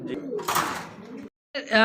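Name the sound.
pigeons cooing in cage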